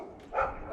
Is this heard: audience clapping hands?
no